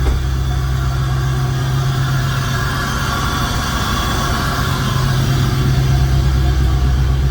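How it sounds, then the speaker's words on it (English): A car engine idles steadily and loudly just after a quick start, with a constant low rumble and a rushing air-intake hiss that hold evenly throughout. "quick startup, man. Look at that air intake, sucking air, man."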